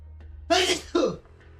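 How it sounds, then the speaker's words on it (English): A person gives a single loud, close sneeze, a sharp two-part burst with an inhaled lead-in followed by the explosive release, over a quiet background with a faint steady hum. "Achoo!"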